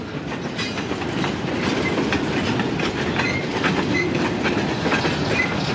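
A long freight train hauled by a single locomotive rolls steadily past close by, its wheels clacking rhythmically over rail joints under a constant loud rumble, with faint metallic squeals here and there.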